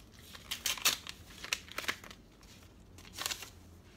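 A letter envelope holding a card is torn open and handled nearby, giving bursts of crisp paper rustling, crinkling and tearing in short irregular clusters, with no voices.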